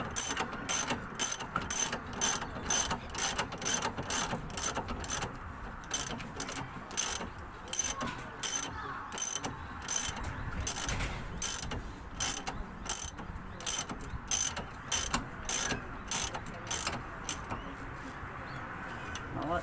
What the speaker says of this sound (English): I just tighten it as much as I can by the wrench, then give it at least a quarter of a turn with the breaker bar